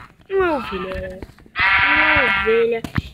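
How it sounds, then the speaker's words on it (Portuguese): A sheep in the Minecraft Pocket Edition video game bleats twice, two loud close wavering calls separated by a short pause, with faint clicks between them. "Uma ovelha."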